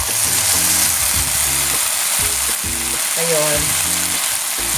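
Half a kilo of Clara Ole pasta sauce hits a hot frying pan and sizzles loudly and steadily up close, under intermittent low humming tones, while a voice speaks briefly.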